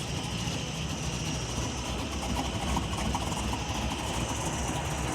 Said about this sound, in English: as you can probably hear, it's way quieter than it was with just the open downpipes